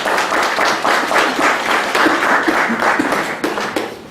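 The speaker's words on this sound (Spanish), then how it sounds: "Un aplauso, ¿no?" An audience at a law faculty lecture applauding, a dense wash of clapping that holds steady, then thins and tapers off near the end.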